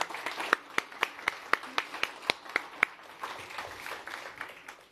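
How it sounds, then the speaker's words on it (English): A conference audience at a summit in London gives a round of applause for two speakers, the clapping dense at first, with a regular sharp clap standing out, then thinning and fading toward the end. "Big round of applause for Rachel and Kate."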